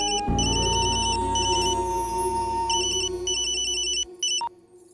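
A phone ringtone plays as repeated bursts of beeping tones over a sustained melodic backing, cutting off near the end.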